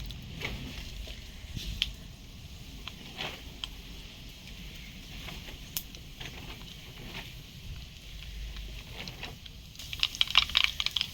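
Mustard seeds crackling in hot oil, fine scattered pops and light spitting over a low background hiss, faint and steady with a busier flurry toward the end.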